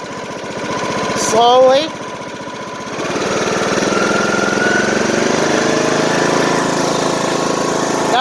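A lawn mower engine runs steadily at low RPM after an oil change, a close, continuous droning hum that picks up slightly after a brief voice near the start, then holds level.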